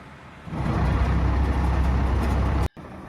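A paddy harvester's heavy engine starts rumbling loudly and steadily in a muddy field, then cuts off abruptly before a quieter background returns.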